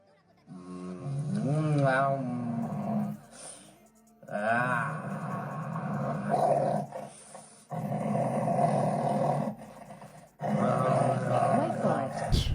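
A hungry dog growls and snarls aggressively in several loud, sustained bursts separated by brief pauses, close and harsh, with rising and falling vocal tones.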